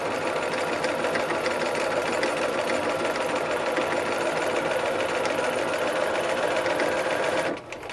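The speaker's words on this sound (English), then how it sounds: "I sew, and I'm keeping this outside edge lined up as I remove each of the pins as we go around." A sewing machine runs steadily, stitching knit fabric for a dress made from Simplicity pattern 9011, with a continuous close whirring hum for about seven and a half seconds before easing off at the end.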